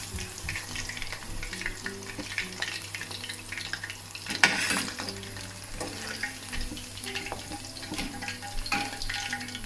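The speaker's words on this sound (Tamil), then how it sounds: "பொன்னிறமாக பொரிஞ்ச உடனே இறக்கி எடுக்கணும்" Chicken deep-frying in hot oil until golden, a steady crackling sizzle with occasional sharper spatters and a brief burst of clatter partway through, with no talking.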